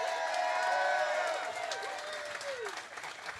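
A crowd at a live interview event with a band applauds and cheers in a sustained, dense wash, while a voice carries over the noise.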